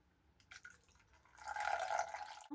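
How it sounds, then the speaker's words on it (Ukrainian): A few soft drips, then a short splashing stream of 250 grams of warm water poured into a mixing bowl for brioche dough. Quiet, with no voices. "Додаємо сюди 250 грамів теплої води."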